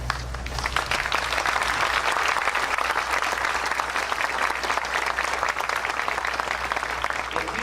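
An audience at a 25th anniversary celebration of the East Texas Oil Museum applauds its endowment patrons and underwriters, a dense, sustained burst of clapping from a large crowd filling the room without letup.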